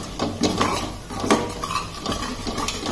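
A spoon scrapes and clinks against a pan while fish cutlet masala is stirred and sautéed, giving irregular metallic taps and scrapes over a low background hum, with no talking.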